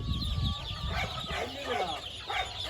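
Chickens cluck and squawk continuously at an outdoor market, amid a noisy, busy background, with voices faintly mixed in.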